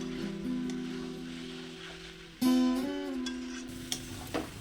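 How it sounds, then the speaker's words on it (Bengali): Mixed vegetables sautéed with spices in a pan, a soft, steady sizzle with occasional stirring scrapes, heard alongside sustained electronic musical tones. "মশলার সঙ্গে সবজিগুলোকে আরও তিন চার মিনিট কষে নেব"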